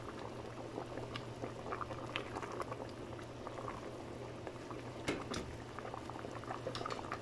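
Pot of red chicken kabsa boiling steadily, a dense continuous bubbling and simmering with scattered small pops and patters, close and fairly soft, with no talking.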